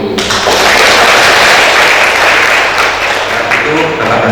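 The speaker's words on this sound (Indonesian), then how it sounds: "Tepuk tangan untuk" An audience at an Indonesian book discussion event on cooperatives bursts into loud, dense applause that holds steady for several seconds, filling the hall close to the microphone.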